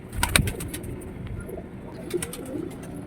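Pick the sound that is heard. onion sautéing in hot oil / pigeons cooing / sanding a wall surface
pigeons cooing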